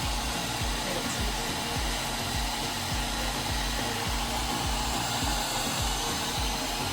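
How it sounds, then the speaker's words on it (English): A hooded hair dryer cap runs with a steady, loud whooshing roar and a low rhythmic pulsing throughout, close and continuous with no talk. "Now I have plugged my hair dryer to the socket."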